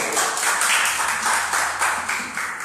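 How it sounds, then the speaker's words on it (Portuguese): A church congregation claps for the Lord in a steady, rhythmic pattern of repeated claps, fairly close and continuous for the whole span, with no voices over it. "Também uma salva de palmas para o Senhor"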